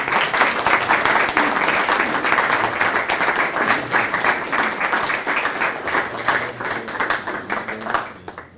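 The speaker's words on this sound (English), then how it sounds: "Let's give Jim a round of applause." Sustained applause from an audience at a college Hall of Fame induction ceremony, loud and dense, dozens of hands clapping evenly for several seconds before easing off slightly at the end.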